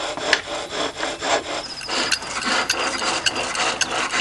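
Wood is turned on a homemade, twenty-year-old human-powered lathe, the cutting tool rasping and scraping in rhythmic, repeated strokes, close and fairly loud with no talk.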